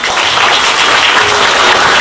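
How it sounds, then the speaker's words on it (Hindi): Dense, steady applause from an audience at a mushaira and kavi sammelan at a school in Malad, welcoming poets; loud and sustained throughout without a break. "सब तालियां बजाकर उनका स्वागत करेंगे"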